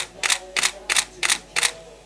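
A Canon 5D Mark III shutter in normal mode snaps five times at an even, steady pace, each a crisp double-edged click, fairly loud and close with no voices.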